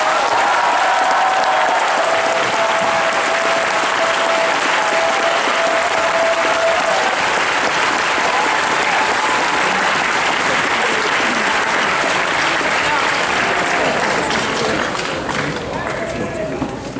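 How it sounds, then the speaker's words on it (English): Loud, sustained applause and cheering from a large convention crowd at a pony fan event, dense and continuous throughout with a steady wash of clapping and voices. "let's give him a round of applause."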